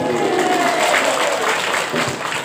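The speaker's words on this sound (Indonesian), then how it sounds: "Tepuk tangan dong." An audience at a large religious haul gathering claps in a dense, steady wash of applause that stays loud and even for the full couple of seconds.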